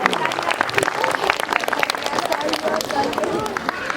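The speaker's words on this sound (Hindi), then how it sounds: "एक बार जोरदार तालियां हमारे मेहमानों के लिए।" Audience at a kids' talent show applauding guests, a loud continuous burst of clapping from a crowd filling the room, with some murmured voices mixed in.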